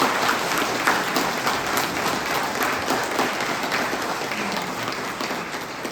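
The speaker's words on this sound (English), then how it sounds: "Let's give them a round of applause." A ceremony audience at a college Commencement Day applauds in a dense, steady wash of clapping that fills the room for several seconds, holding even and loud before easing slightly.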